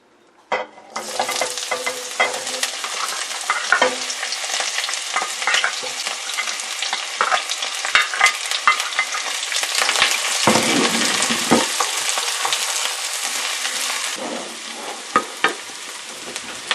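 Onions sizzle loudly and steadily in hot oil for a Nigerian egusi stew, a dense, continuous frying hiss that lasts throughout, with occasional clinks of stirring and no talk.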